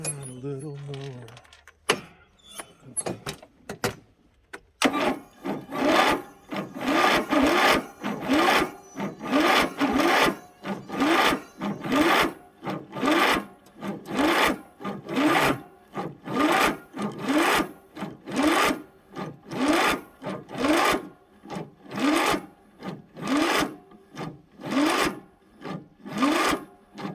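A small riding mower engine starts up after a few sputters, then settles into a loud, regular pulsing chug that keeps cycling steadily, close by.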